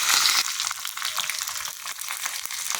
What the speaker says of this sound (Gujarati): તો હવે આપણે એમાં 5 થી 6 મીઠા લીમડાના પાન નાખીશું।